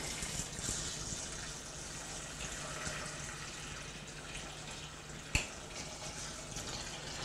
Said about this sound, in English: let's put the hot water in